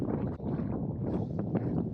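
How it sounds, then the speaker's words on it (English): Steady wind buffeting the microphone at Craters of the Moon National Park, Idaho, a continuous low rumble with gusty swells throughout, no voices. "As you can hear and see, it's a little windy up here"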